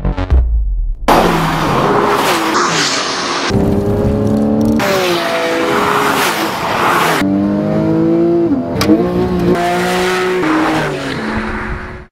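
A Porsche 911 (991) direct-injection boxer engine revs hard and shifts through gears repeatedly on twisting mountain roads, pitch climbing and dropping as it accelerates, with brief pauses between runs.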